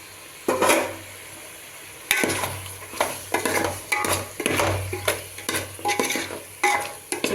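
Marinated chicken hits a pan of fried ginger and garlic for a Sunday chicken biryani, giving a loud burst of sizzling with repeated stirring scrapes and clatters close by, no voices.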